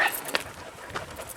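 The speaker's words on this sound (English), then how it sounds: "Noisy dogs today," Dogs on a rural hillside road in the Philippines give a few faint yelps and whimpers, soft and somewhat distant, scattered over quiet outdoor background with no clear talk.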